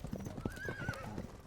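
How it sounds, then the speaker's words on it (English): Horses gallop down a cobbled street as a sound effect: quick, rhythmic hoof clip-clops ring out close and steady, and a whinny rises briefly partway through. "listening to horses galloping down a cobbled street"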